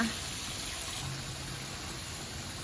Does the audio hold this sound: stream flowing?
yes